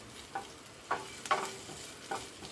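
Onions, green chillies and curry leaves stirred in a pan over a low flame, four soft scraping strokes spaced out over a faint sizzle, no voices.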